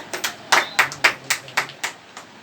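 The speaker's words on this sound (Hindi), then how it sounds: "तो दोस्तों थोड़ा तालियां बजती रहे, अच्छा रहेगा।" A handful of people clap at a business training talk, about ten distinct, fairly loud claps in an uneven rhythm with no voices over them.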